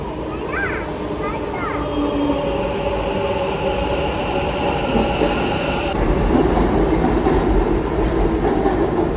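A metro train arrives at a station, a constant rolling roar with a higher whine joining partway, while people talk and children's voices carry nearby.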